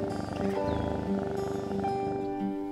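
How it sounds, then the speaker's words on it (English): A rescue cat purring close up, a steady rumbling purr with a faint tonal hum running underneath, with no voices. "he comes and just starts purring on us"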